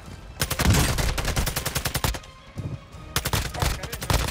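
Gunfire in Modern Warfare 2 DMZ, loud bursts of rapid automatic shots in two runs separated by a short pause, close and dominant with no talk over them.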